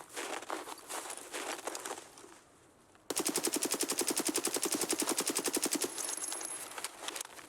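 Rapid automatic gunfire rattles in a shooter video game, scattered shots first, then after a brief lull a long, loud, evenly spaced burst of dozens of rounds that ends abruptly, followed by a few trailing shots.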